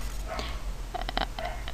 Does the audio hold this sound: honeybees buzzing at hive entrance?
no